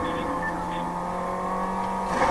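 A car drives in the Fortnite video game with a steady engine drone and a slight rise in pitch, heard briefly and close.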